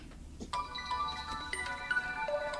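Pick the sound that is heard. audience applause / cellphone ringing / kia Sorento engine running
cellphone ringing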